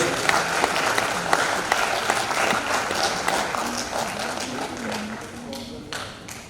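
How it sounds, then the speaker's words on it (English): A lecture audience at a memorial oration applauds, a dense patter of clapping with some sharper individual claps, while a voice talks faintly underneath throughout. "Let's give a big applause for this dear."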